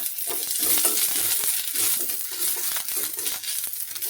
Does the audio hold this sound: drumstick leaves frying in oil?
yes